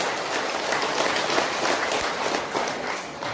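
Audience applause during a regional council member's visit to a village gathering in Nusa Tenggara Timur, Indonesia: dense, sustained clapping from a crowd, loud and steady throughout.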